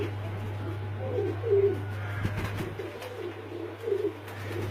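Pigeons coo repeatedly from a rooftop loft kept by a pigeon fancier, soft rolling calls rising and falling over a steady low hum, with no talking.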